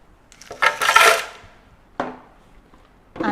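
Instant coffee is spooned into a container for a frappe, with a few brief metal-and-glass scrapes and clinks. A longer rattle comes first, then a sharper tap, then another that starts at the very end, all close and with no talk.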